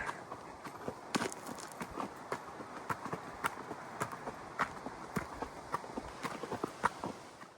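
A horse walking under a rider out on a ranch property, hooves clip-clopping in a steady, uneven rhythm of sharp, fairly close strikes over a constant outdoor background, with no talking.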